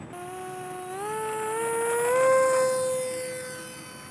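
An RC aircraft fitted with a Turnigy autopilot system takes off and flies, its electric motor whining steadily and rising in pitch as it speeds up, then easing slightly as it climbs away, with no talking.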